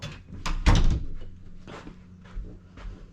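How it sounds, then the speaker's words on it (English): A door being closed indoors, a thud and latch sound near the start followed by softer rattles and shuffling movement. "Gotta close the door behind me."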